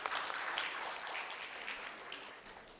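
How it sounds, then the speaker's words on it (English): An audience at an awards function gives a round of applause, a faint, dense wash of many hands clapping that holds steady and slowly tapers toward the end. "Can we have a round of applause, please?"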